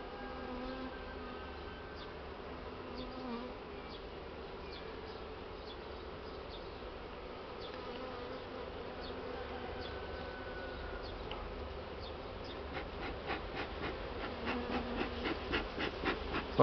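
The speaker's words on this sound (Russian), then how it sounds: "То пчелы злятся." Buckfast honey bees buzz at the hive on a cool day, a steady dense drone throughout that grows louder and more agitated toward the end.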